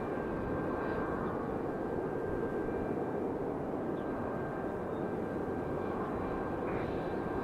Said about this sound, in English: That MAX 9 turning, making its way back to the gate, maybe.